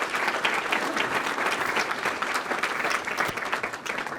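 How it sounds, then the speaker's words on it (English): Sustained applause from a dinner audience at an award presentation, a dense, even roar of many hands clapping that holds steady throughout. "Give them all a round of applause,"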